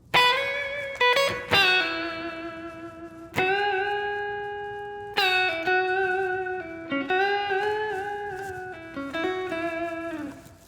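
Electric guitar plays a major-sounding twelve-bar blues lick over the one chord, with picked attacks, bends and sustained ringing notes, up close and solo with slight distortion.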